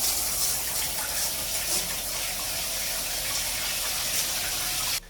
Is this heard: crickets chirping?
no